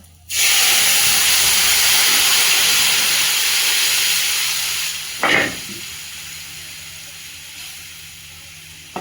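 A taro curry poured into hot oil tempered with dried chillies, garlic, bay leaf and cumin erupts into a loud, steady hissing sizzle that slowly fades. A brief clatter of a utensil comes midway, close and alone.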